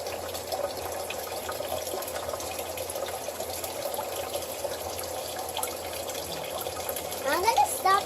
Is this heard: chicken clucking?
no